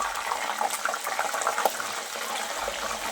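Steady hissing, sizzling wash of salted water hitting hot oil while frying banana wafers, continuous and fairly loud throughout with no talking.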